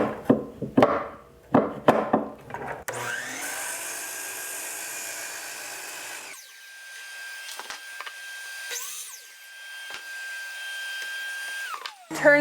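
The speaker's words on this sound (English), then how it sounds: "So I'm going to turn this miter saw table to 45 degrees. And then I will cut off 1 corner from each of these." A miter saw, its table set to 45 degrees, spins up with a loud whine and cuts corners off scrap wood blocks for a pumpkin craft, the blade winding down with a long steady tone after the cut; knocks and handling noises come before it.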